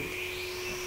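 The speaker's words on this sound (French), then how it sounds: "c'est qui passe l'aspirateur?" A vacuum cleaner runs in another room as a steady, even drone with a sustained high whine, holding constant throughout with no talk over it.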